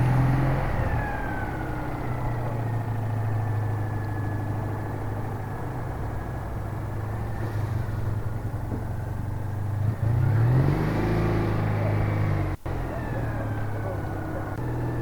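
A Citroen 2CV6 engine hums steadily while the car is driven, with a continuous low drone and slight rises in revs. A brief sharp click near the end cuts through the sound.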